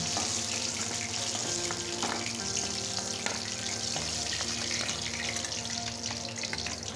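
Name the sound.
green banana being washed in hot water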